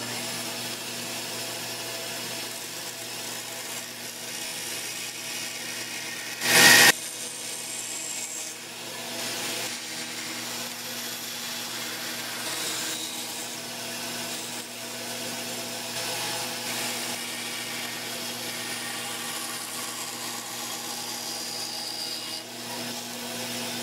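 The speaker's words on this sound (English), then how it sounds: "I'll just rough cut close to the line on the bandsaw." Bandsaw rough cutting tapered wooden guitar braces for a tenor guitar, a steady droning machine hum with a faint rasp of blade on wood and one brief loud knock partway through.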